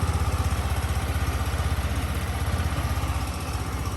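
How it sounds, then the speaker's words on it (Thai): A Tuscany 150 scooter engine idles close by just after starting, with a fast, regular putter, steady and loud throughout with no talking. "อันนี้ก็คือเครื่องยนต์ติดปกติแล้วนะครับผม"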